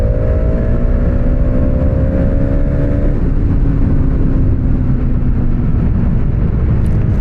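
A Hero Xtreme 250R motorcycle engine drones loudly and close, its pitch shifting as the throttle opens, a steady continuous roar with no talking.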